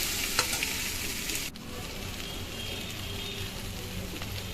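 Boiled taro and potato with green chili, salt and turmeric are stirred in a hot pan, giving steady sizzling and frying with scraping stir sounds, close and continuous.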